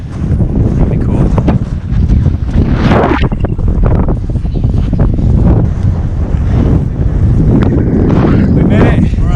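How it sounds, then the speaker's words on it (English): Strong wind at a hilltop in Nicaragua roars and buffets the microphone continuously during a motorcycle trip, a loud rumbling gust that never lets up. "It's getting windy."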